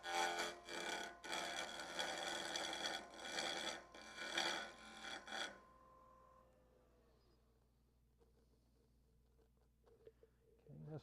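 A wooden Christmas ornament spins on a lathe while a tool cuts a tenon, giving a loud rasping, scraping whir in rapid pulses for about five seconds. The cutting then stops and leaves a faint low hum.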